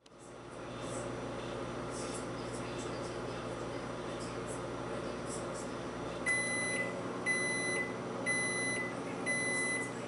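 A microwave oven heating marshmallow Peeps runs with a steady droning hum, then sounds a series of four evenly spaced electronic beeps near the end.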